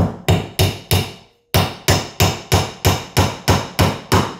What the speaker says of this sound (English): we hammer a loose Lignolock wooden nail in